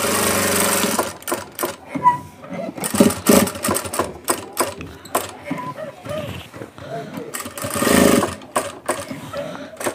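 A sewing machine stitches a pillow cover in loud, close bursts of whirring motor noise that start and stop, with a person talking between and over the runs.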